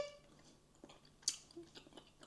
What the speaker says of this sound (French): je suis en train de le mâcher depuis 20 minutes, là.